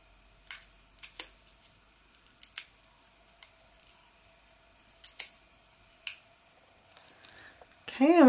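Scissors snip through overlapped washi tape on a card, with a series of crisp, close cuts spaced irregularly and a voice speaking briefly at the end.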